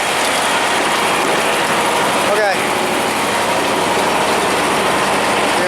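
Tractor driving an auger feed mixer wagon, a loud steady engine drone with mechanical rattling and grinding throughout, plus a brief squeal midway; a voice says a single word.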